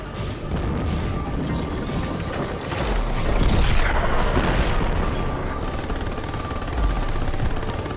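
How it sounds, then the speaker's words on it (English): Railgun fire from a combat aircraft in the game Project Nimbus, loud, dense blasts and crashing impacts rolling together into a sustained roar for several seconds, with no talk. "You can see that the railgun is overall pretty nasty, but only has 5 shots before it goes on cooldown to reload"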